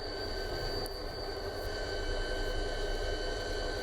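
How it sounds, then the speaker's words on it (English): An old locomotive, stationary for nearly twenty years, rolls along the rails with a steady rumble and a constant high whine, the noise holding even throughout and slightly swelling toward the end. "This is the first time this locomotive has moved in almost 20 years"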